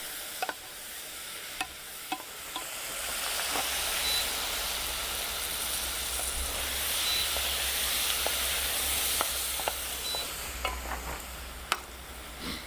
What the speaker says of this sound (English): all you got to do now is cook them on down for about 15 minutes or so